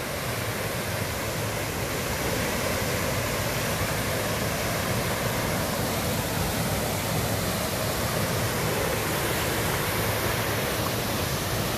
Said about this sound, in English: there's the wee falls